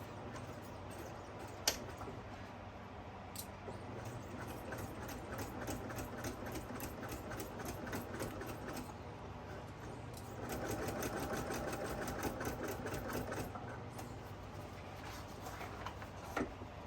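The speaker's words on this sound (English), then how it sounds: "my first stitch is going to be an 1/8 inch stitch" A sewing machine sews an eighth-inch seam with a 3.5 mm stitch length on a reversible flat-bottom tote bag, a continuous, fairly quiet rapid whirring that swells slightly partway through.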